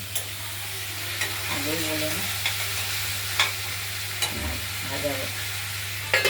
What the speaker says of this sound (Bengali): আলুগুলো ভাজা ভাজা হয়ে গেছে আর আমাদের মশলাটাও হয়ে গেছে